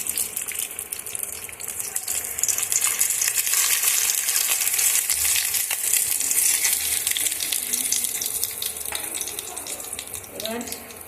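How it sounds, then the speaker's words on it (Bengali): Cut tomatoes fry lightly in a pan, giving a broad, even hiss and sizzle with a watery, gushing texture and a few soft clatters near the end. "এবার আমি এই টমেটোগুলোকে একটু হালকা ভেজে নেব"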